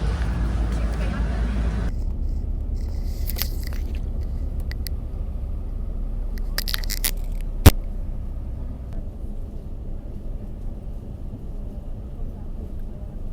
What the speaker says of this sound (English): We're on the bus